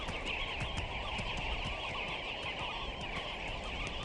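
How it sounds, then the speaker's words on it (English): Sandgrouse calling repeatedly at a watering hole in the Namib desert, a steady run of short chattering calls over a constant band of insect-like background hiss, no talk. "the sand grouse call often means water"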